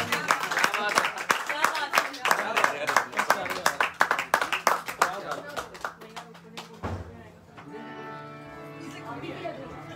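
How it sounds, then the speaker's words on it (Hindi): A crowd at a live music show claps in scattered, uneven bursts for several seconds, loud and close, before the applause fades and a voice takes over. "जोरदार तालियां दें"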